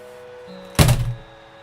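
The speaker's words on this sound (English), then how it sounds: "that noise you heard were my headphones hitting the floor" A pair of headphones drops and hits the floor with a single dull thunk and a brief rumble that fades within half a second, over a quiet background hum.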